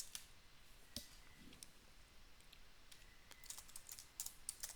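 Typing on a computer keyboard, a quiet run of light, irregular key clicks with a few sharper taps, close by and alone with no voice.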